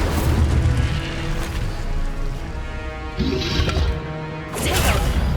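Incendio fire spell cast in Hogwarts Legacy, heavy booming whooshes and crackling bursts over a low rumbling game ambience, recurring a few times across the stretch.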